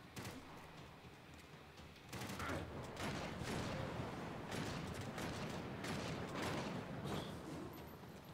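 Rapid gunfire from a revolver in Max Payne 3, a run of loud sharp shots that thickens into near-continuous bursts after the opening seconds, layered with dense game action and no talking.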